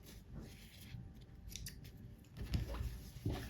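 Scissors trim off excess threads after sewing, several faint snips close by, spaced unevenly over a quiet room background.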